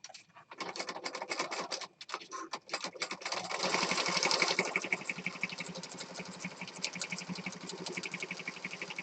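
A sewing machine runs steadily, stitching around the outside edge of a mixed media piece with thread pieces left sticking out. The whirring is fairly loud and close, with a few brief pauses early on and no speech.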